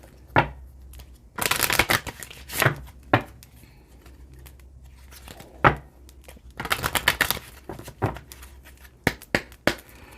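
Message cards are shuffled close up in several loud, crisp riffling bursts, separated by sharp slaps and taps as the deck is squared and a card is drawn.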